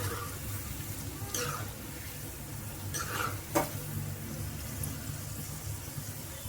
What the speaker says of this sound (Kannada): ಇದು ಫ್ರೈ ಆಗೋಕ್ಕೆ ತುಂಬ ಟೈಮ್ ಏನು ಬೇಡ, ಯಾಕೆಂದರೆ ತುಂಬ ತೆಳ್ಳಗೆ ನಾವು ಇದನ್ನು ಕಟ್ ಮಾಡ್ಕೊಂಡಿರ್ತೀವಲ್ವ